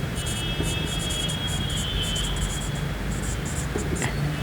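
Chalk or marker writing a definition on a classroom board during a biology lecture, with repeated short scratchy strokes in bursts over steady room hiss, no talking.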